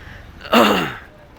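A man gives a single harsh cough, close and loud, a short rough burst that fades quickly into quiet background noise.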